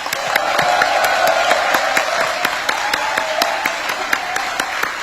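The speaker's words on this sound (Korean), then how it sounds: "우리 다시 한번 대통령 네 분을 위해 뜨거운 환영의 박수 부탁드립니다." A crowd at a Korean community gathering in the Philippines claps to welcome four visiting presidents. Distinct sharp claps land in a loose, fairly regular rhythm over a low murmur of the crowd, close and loud.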